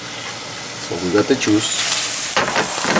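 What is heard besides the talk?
scallops searing and sizzling in a pan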